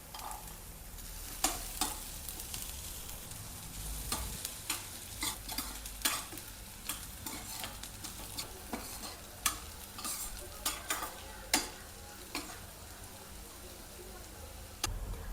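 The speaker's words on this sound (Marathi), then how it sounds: "कांदा आणि खोबरं छान भाजून झाले" Onion and grated coconut are roasted in a pan for a bombil batata dish. A spatula taps and scrapes in repeated sharp clicks over a soft, steady frying hiss, quiet and close.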